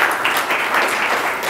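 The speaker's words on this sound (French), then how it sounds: "un tonnerre d'applaudissements pour Boris" A management-school masterclass audience breaks into loud, dense applause to welcome a speaker, a brief burst of clapping that holds steady throughout.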